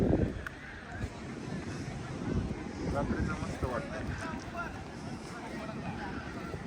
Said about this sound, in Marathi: लाटा भरपूर आहेत